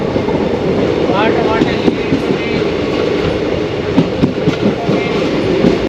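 A train rolls through Bidadi railway station in Ramanagara district, a loud, steady rumble of wheels and carriages with rhythmic clatter and occasional sharp clanks close by throughout.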